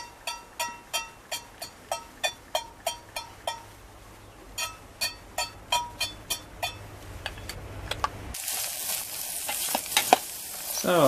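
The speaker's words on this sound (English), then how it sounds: "So I'll just let those onions soften there and brown in the pan for a minute or two." Onions in rapeseed oil in a camp pan, a steady run of regular scraping stirs followed by a rising sizzle as they fry, close and without talk.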